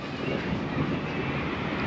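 Light rail streetcar passing by in Buffalo, a steady broad rumble and rushing noise heard outdoors with no distinct clicks.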